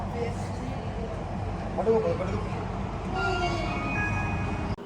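A Mumbai metro train rumbles steadily along the track with a smooth, continuous hum, and people talk quietly over the running noise.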